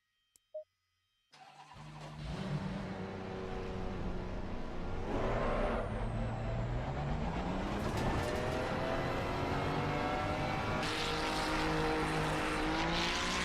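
A race car engine in Assetto Corsa Competizione at the Hungaroring roars to life after a brief click, then revs loudly and continuously with rising and falling pitch through gear changes.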